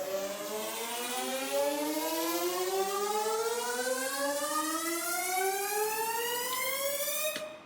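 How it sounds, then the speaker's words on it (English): A synthesizer tone sweeps steadily upward in pitch for several seconds, a dense, bright, siren-like build-up that stays loud and alone before cutting off sharply at the end. "I also have sort of like just a pitchy build-up sort of sound."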